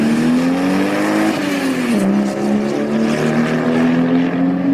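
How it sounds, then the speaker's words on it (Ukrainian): A passenger car's engine drones loudly and steadily, its pitch dipping and rising slightly as it revs, heard close with no voices. "Так, це легковий автомобіль."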